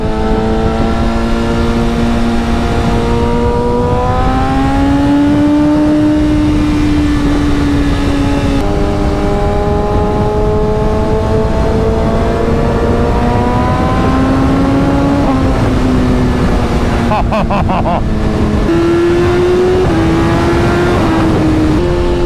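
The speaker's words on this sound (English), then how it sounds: "I honestly think this is the best sounding exhaust." A sport motorcycle engine drones loudly and steadily up close, its exhaust note rising and falling through several gear changes, with occasional brief rasps.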